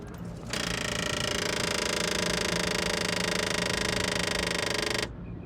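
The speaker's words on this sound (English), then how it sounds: "This is what the headlights look and sound like right now." Headlight motors of a 2003 Chevrolet Corvette C5 Z06 with a faulty, misaligned unit, giving a steady close mechanical whir and buzz that holds for about four and a half seconds, then stops abruptly.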